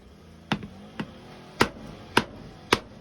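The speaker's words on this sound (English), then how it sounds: "Let's get the bigger hammer." Five sharp metallic strikes of a bigger hammer hitting a knife in a hard use test, spaced about half a second apart, close and loud against a quiet background.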